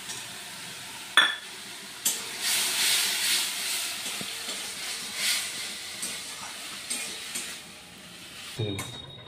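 Chopped tomato goes into a pan of cooking spices, setting off a hissing, steamy sizzle. Sharp spatula clinks and scrapes against the pan sound close by, and the sizzle fades toward the end.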